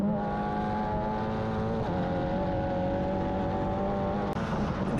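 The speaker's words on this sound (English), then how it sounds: "Now accelerating down the long back straightaway as we ride with the Future Star Racing driver." An F4 U.S. open-wheel race car accelerates hard down a long back straightaway at the Austin SpeedTour, its engine droning steadily and loud from an onboard position, with a brief upshift break partway through.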